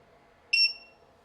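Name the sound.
Leaptrend 3000W power inverter switched on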